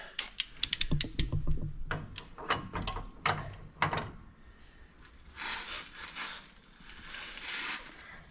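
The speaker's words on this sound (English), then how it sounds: "And then move to the big wrench." Big wrench working a steering box nut on a Jeep front axle build, giving a quick series of sharp ratcheting clicks and metallic knocks, then softer scraping and handling noise, close by.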